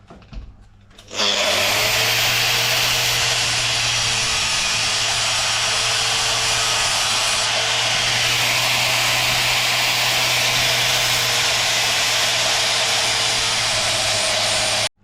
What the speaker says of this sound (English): I think I can probably clean it up with my wire grinder right here, or my disc grinder